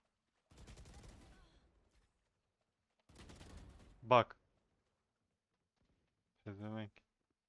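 Short bursts of gunfire in the Valorant game, two rattling volleys a few seconds apart, close and sharp against near silence, with someone talking in between.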